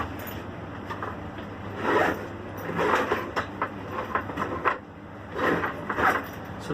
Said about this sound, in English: I'll zip this up so that you guys get an idea.